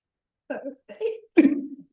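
Three short, throaty burps come one after another, each about a quarter second long and the last the loudest, in a quiet room during a Bhagavad Gita class.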